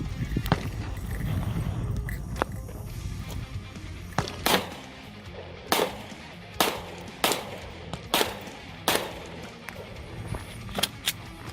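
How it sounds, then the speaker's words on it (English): Diamondback DB9 Gen 4 pistol fired outdoors in the desert with Federal HST 124 grain hollow point ammunition, about eight sharp shots at a steady pace after a stretch of wind and talking. "so Joe's gonna go with brass, steel, and then some 124 grain HST Federal hollow point"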